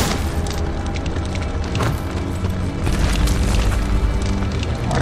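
Bomb blasts in the action game Darksiders, a dense run of loud booming explosions with rumbling low end that continues steadily through the clip.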